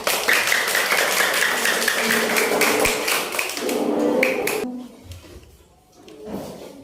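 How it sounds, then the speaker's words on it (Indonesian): Children in an Islamic religious studies classroom clapping for a group, a run of loud, rhythmic claps that stops abruptly, followed by quieter room sounds and faint voices. "Tepuk tangan untuk kelompok ini."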